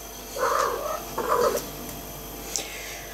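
A cat purrs close by in two short rumbling bursts, each under a second, followed by quiet with a faint click, and no talking over it.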